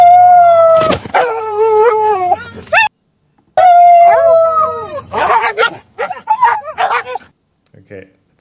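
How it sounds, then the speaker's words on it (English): AI-generated wolf howl that comes out rather dog-like: two long, loud, wavering howls with whimpering yips between them, broken by a short silence and ending in scattered fainter yelps. "Wolf howling."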